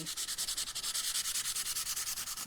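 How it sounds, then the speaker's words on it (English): A board being hand sanded with 180 or 240 grit sandpaper to scuff and key the surface for paint, heard as quick, even back-and-forth rasping strokes, close and steady, with no voices. "sandpaper, just to scuff the surface"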